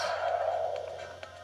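The warp-to-previous-level effect in the Troopanum audio game is a short electronic sweep that slides downward and fades over about a second and a half. A few faint clicks sit on top, and no one speaks.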